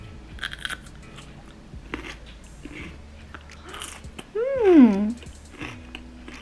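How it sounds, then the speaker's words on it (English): Crunchy, close-up bites into vinegared lotus root snap and crackle repeatedly, with a short voiced hum of approval rising briefly over the chewing. "you can hear the crunch and the lotus root"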